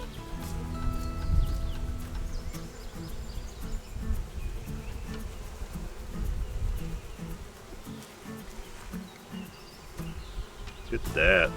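Honeybees buzz steadily during an open beehive inspection, a dense droning hum that holds throughout with low rustling and handling noise and brief faint voice-like sounds.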